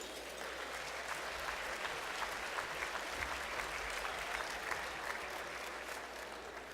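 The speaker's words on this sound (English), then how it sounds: "How about a round of applause for these two students?" Steady audience applause at the Simon Benson Awards ceremony at Portland State University, a dense, even clapping from a crowd that holds at a consistent level throughout.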